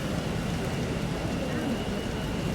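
Steady rain falls over a Helsinki street outside a small bakery, a continuous broadband wash of drops that stays loud and even throughout with no clear voices.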